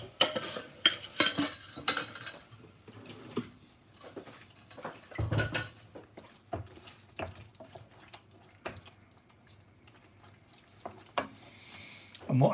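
A spoon stirs cream into tikka masala curry in a pan over low heat, soft scraping and clinks of utensils close by, with quiet pauses between strokes.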